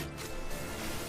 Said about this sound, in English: Now I'm going to retrieve my turret.